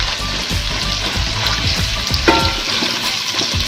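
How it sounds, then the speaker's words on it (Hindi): Finely minced chicken keema frying in a cooked masala paste gives off a steady, close sizzle, with a brief clink of the spoon partway through. "ये जल्दी फ्राई हो जाता है, इसको देर नहीं लगेगी क्योंकि ये बहुत बारीक है।"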